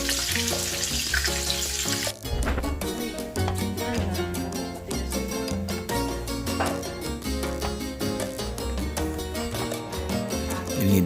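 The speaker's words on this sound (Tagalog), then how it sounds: "Fry the fish fillet for 6 minutes on each side." A fish fillet fries in a pan with a loud, steady, close sizzle that goes on without a break; soft clatters come through over it.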